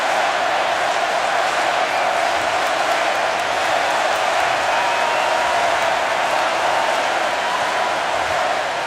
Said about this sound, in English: Here comes that Miami crowd.